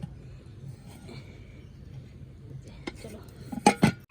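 A rice pot being lifted off a stove, faint background rustle followed by a couple of sharp metallic clanks of the pot near the end, close by.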